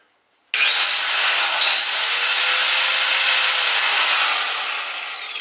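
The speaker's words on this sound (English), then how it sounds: "It's just a cheap Hitachi angle grinder." A cheap Hitachi angle grinder spins up abruptly after a brief silence and keeps running steadily, a loud, close, high-pitched whine with a grinding hiss.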